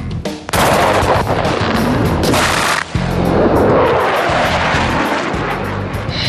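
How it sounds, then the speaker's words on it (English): An F-18 fighter jet's cannon firing shells at a rate of 100 rounds a second during pilot training in Canada, a loud continuous roaring burst with a short break partway through, over jet engine noise, no speech. "Those shells hit at a rate of 100 rounds a second."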